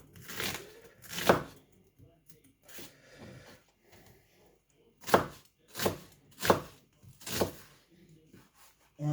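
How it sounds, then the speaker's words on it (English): A knife chops onions on a board with a string of sharp, irregular strikes, some in quick pairs, close and fairly loud between short pauses. "let's get this onions chopped"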